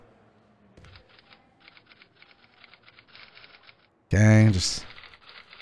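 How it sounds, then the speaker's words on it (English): Keyboard typing at the teacher's desk in a video game, heard as several seconds of quick, light, steady key clicks in short bursts. A loud voice then cuts in abruptly. "Oh, I'm typing!"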